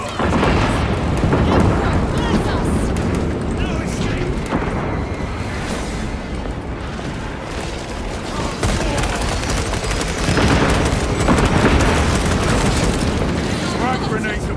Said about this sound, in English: Frag grenades deployed.